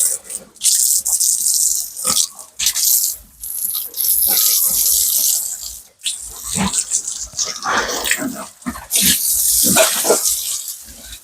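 Pork being washed under running water, splashing and gushing in uneven bursts with brief pauses as the meat is handled, close and fairly loud, without speech.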